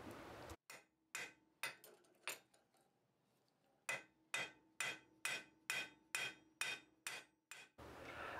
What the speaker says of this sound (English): I'm just setting the rivet right now so the two halves are locked together.